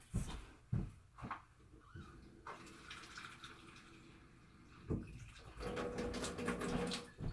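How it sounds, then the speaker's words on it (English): Water from a tap running and splashing into a small bowl over sun-dried tomatoes, a steady gushing pour with a few clinks near the start and a stronger splash toward the end, no talk. "in a small bowl, we're going to cover it with water"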